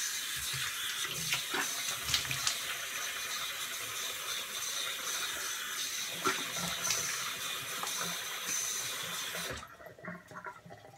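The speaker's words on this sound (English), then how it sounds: "Cold water." Cold water runs steadily from a bathroom tap for about ten seconds, a close, even broadband rush that cuts off abruptly near the end, leaving a quieter tail.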